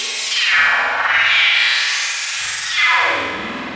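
Vital synthesizer preset called Fragmentation: a bright, heavily processed synth texture with swelling, sweeping tones and echoing distortion, loud and continuous, rising and falling in two broad waves with no voices.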